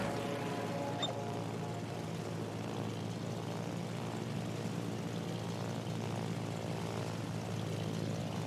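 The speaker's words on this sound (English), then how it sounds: "Fighter airborne." A propeller-driven fighter aircraft drones steadily as it takes off from an aircraft carrier, a continuous low engine hum at moderate, even loudness.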